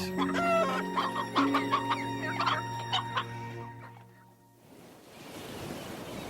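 Chickens cluck and cackle in a steady rhythm among farm animals, loud and close, fading out as a wash of surf-like noise takes over near the end.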